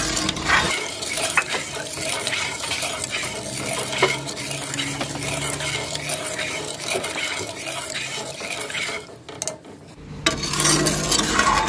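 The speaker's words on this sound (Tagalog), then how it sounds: "Bali, hahaluin ko siya guys hanggang sa matunaw yung asukal." A spoon stirs sugar into a strawberry popsicle mixture in a bowl, scraping and clinking steadily against the sides at close range for most of the stretch, with a short lull near the end before the stirring resumes.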